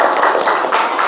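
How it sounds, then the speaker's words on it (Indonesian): A classroom group claps together, a brief burst of dense, fast hand claps sounding close and fairly loud. "Oke, beri tepuk tangan."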